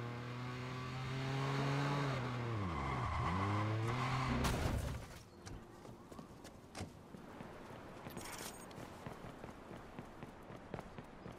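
A car in the video game Watch Dogs drives with a loud revving engine that rises and falls, then its tires skid and it bumps and clatters, followed by scattered impacts and rumbling.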